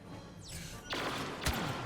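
Blaster fire in the Star Wars Battlefront video game: a sharp sweeping zap, then a burst of noisy shots and a punchy blast near the end, loud over a steady battle backdrop.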